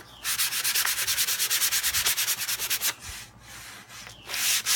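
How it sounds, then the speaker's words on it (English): Fine sandpaper rubbed lightly over a gesso coat on a wooden board, with the grain: a quick run of rhythmic scratchy back-and-forth strokes, close and steady, then a pause and a few more passes. "use your fine sandpaper and come back over it just lightly"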